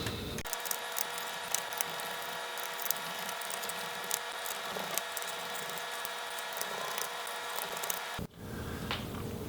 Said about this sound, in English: now we can just go ahead and remove all of the screws